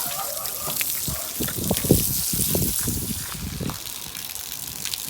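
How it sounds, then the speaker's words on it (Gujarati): Irrigation water runs downhill through a farm field, a close, uneven trickling and gushing flow with bursts of splashing, steady throughout with no clear talk. "જો અહીંયાથી હેઠું પાણી જવા માંડ્યું"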